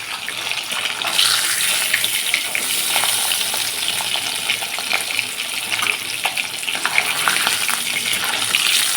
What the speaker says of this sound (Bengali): ইলিশ মাছগুলো আমার হালকা ভাজা হয়ে গেছে